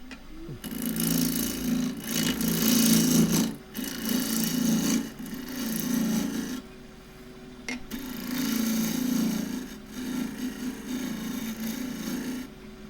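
A 3/8 inch deep-fluted bowl gouge cutting a Himalayan cedar bowl on a lathe, a loud rasping, rubbing cut in long bursts separated by short pauses, with no talk.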